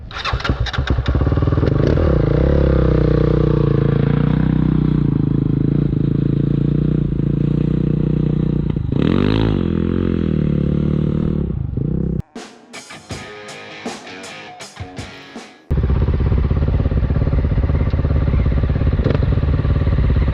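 A heavy adventure motorcycle rides through dune sand, its engine droning loud and close with revs rising and falling, then briefly dropping into rattling, choppy bursts before roaring back up.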